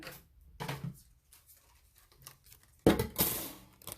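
A die-cutting machine cranks a stacked sandwich of plates and card through its rollers, giving soft muffled grinding and clicking that ends in a louder pressing crunch near the end, with no talking.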